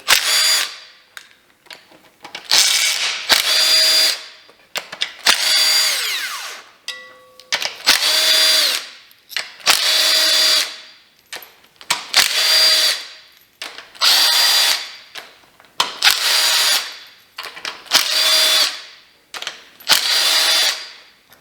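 A power tool zips bolts loose while a valve cover comes off a GM L83 V8 engine. About a dozen short, loud whirring bursts sound close by, separated by brief pauses, with no talk.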